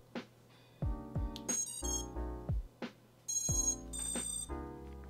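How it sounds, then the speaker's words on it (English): A drone's flight controller arming after a reseated receiver pin, a series of clear electronic tones with musical beeps and chimes in distinct bursts, close and fairly loud. "I get the five beeps, the pump, pump, pump, pump, pump"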